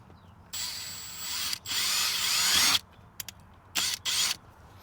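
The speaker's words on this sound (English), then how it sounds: "you want to be careful when you're drilling through this." Bursts of high-pitched power drill whirring through plastic trim inside a Toyota Tundra, a long run then several short pulses, close by with faint background hum.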